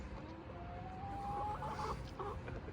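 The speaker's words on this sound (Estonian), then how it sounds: "Ander on nii ülbe kukk ka veel" A rooster named Ander crows in a long drawn call, moderately loud above a steady background murmur of other fowl and outdoor noise; no one speaks.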